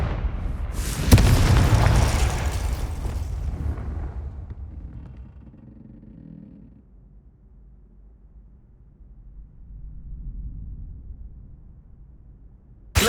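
A Confringo blasting spell explodes in Hogwarts Legacy with a loud sharp boom and a burst of crackling debris, then a rumbling tail that fades over several seconds before a quieter swell and a sudden hit at the end.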